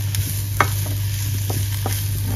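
Potatoes sauté with garlic in oil for bratkartoffeln, a low steady sizzle under a constant hum, broken by a few sharp taps and scrapes of a spatula against the pan.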